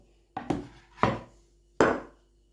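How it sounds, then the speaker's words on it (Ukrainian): Three sharp knife chops through bananas on a cutting board, spaced unevenly about half a second to a second apart, close and distinct with no talking. "Тепер треба сюди додати ще мені банан. Ось у мене два банани. Так, Зараз я їх подрібню"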